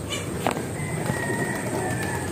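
Pigeons coo softly amid a steady background hum of birds, with a brief flutter-like burst near the start.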